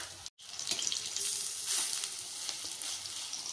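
Bora fritters sizzle steadily in hot oil in a home kitchen pan, a close, continuous hiss and crackle after a brief dropout at the very start, with no voices.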